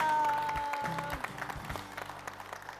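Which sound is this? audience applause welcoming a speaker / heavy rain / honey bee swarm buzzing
audience applause welcoming a speaker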